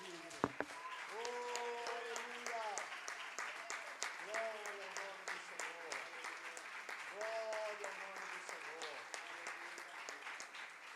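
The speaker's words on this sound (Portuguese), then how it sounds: "Aplauda Ele bem forte, Ele é digno." A church congregation applauding in a steady wash of clapping that lasts throughout, with a voice singing or speaking over it.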